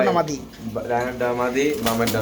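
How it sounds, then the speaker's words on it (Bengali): A male and female pair of Mondain pigeons coo softly at close range, with low, rolling coos mixed with people talking. "ডানেরটা মাদি কবুতর আর বামেটা হচ্ছে নর কবুতর"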